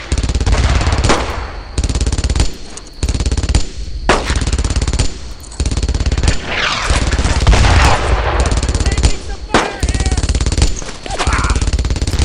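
Loud bursts of machine-gun fire in the WWII video game Brothers in Arms: Earned in Blood, repeated rapid volleys with brief gaps between them.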